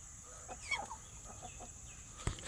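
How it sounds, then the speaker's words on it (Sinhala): Chickens in a backyard breeding coop cluck softly, with a few short clucks and calls scattered over a faint steady background hum and an occasional knock, fairly distant and quiet, with no talking. "බලන්න මේක තමයි ඉතින් කුකුල් කොටුව."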